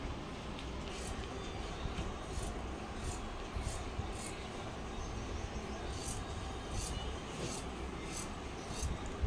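Fabric for extra-large pants is cut, giving a faint, continuous rubbing rasp broken by light, regularly spaced snips, heard close with no speech.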